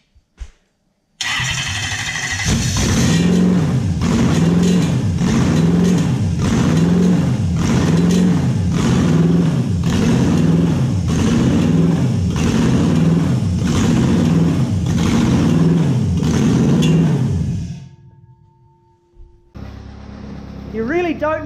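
A Toyota 1UZ-FE V8 cranks, catches and runs on only two cylinders, chugging in a loud, lumpy, rhythmic beat for about sixteen seconds before shutting off, followed by brief talk.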